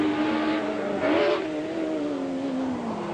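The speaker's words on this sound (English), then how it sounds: "using an awful lot of revs there as he changes down" A race car engine in a 1987 British Touring Car Championship race revs hard and drops in pitch through a downshift, loud and continuous, with a brief surge of extra revs partway through.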